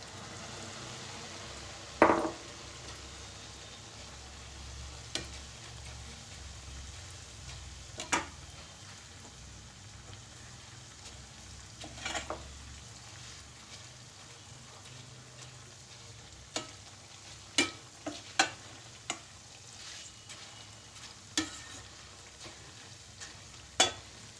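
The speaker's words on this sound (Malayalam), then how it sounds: "ഇനി നമുക്ക് ഈ അവലൊന്ന് വറുത്ത് കോരിയെടുക്കാം." Flattened rice (poha) deep-frying in hot oil in a pan makes a soft, steady sizzle, punctuated by scattered sharp clinks and scrapes of a utensil stirring against the pan.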